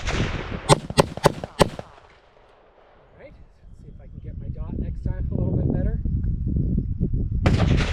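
PSA JAKL 8.5-inch 300 Blackout rifle firing Hornady 124 grain American Gunner rounds: four sharp, loud shots in quick succession open the clip, followed by quieter handling noise and talking.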